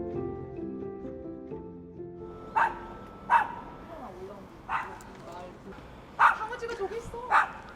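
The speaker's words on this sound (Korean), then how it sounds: "강아지가 저기 있어." A dog barks from nearby in a quiet old hillside neighbourhood of Busan, giving five or six sharp, separate barks spaced a second or so apart over a low murmur, with a voice heard faintly early on.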